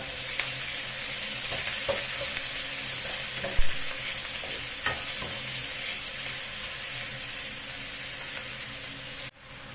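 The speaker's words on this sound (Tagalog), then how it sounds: "So, i-fry lang natin yan hanggang sa lumabas yung aroma ng ating onion." Onions and garlic fry steadily in a pan, a bright continuous sizzle with occasional soft knocks of a utensil, close and fairly loud, ending abruptly. No one speaks.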